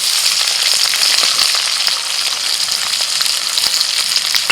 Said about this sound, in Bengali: বিনস, গাজর, ক্যাপসিকাম, পেঁয়াজ আর কাঁচা লঙ্কা সব সবজিগুলো একসাথেই দিয়ে দিচ্ছি।